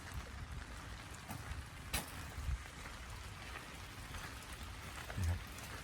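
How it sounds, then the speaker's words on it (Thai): Steady rain falls on a flooded rice paddy during a storm, a dense even hiss with a few louder drop impacts and faint background sounds. "ปลาก็กินเยอะเลยครับฝนตก"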